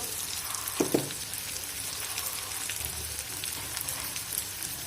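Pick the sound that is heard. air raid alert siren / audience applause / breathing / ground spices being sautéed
ground spices being sautéed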